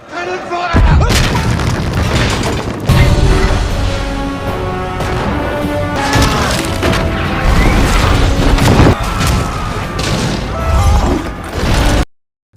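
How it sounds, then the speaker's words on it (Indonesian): Cannons fire from a pirate ship bombarding a town in a film: repeated heavy booms and crashing impacts over a dense, continuous roar of battle that stays loud for about twelve seconds and then cuts off abruptly. "Kapalnya terus-menerus menembaki kota dengan meriam sehingga menimbulkan kekacauan besar."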